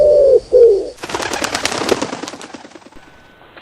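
Two loud, close cooing calls in the style of a pigeon sound effect, then a dense burst of rapid crackling clatter that fades out.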